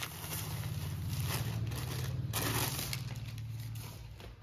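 Crinkly plastic packaging being opened around a new men's shirt, a steady rustling and crackling that runs close and continuous for several seconds with no talking.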